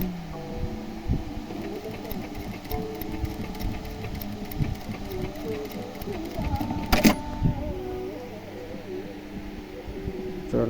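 A sewing machine stitches with a steady, close mechanical whir and a fast rhythmic needle action that runs almost continuously, with a brief sharp click partway through and a voice talking at times over the hum.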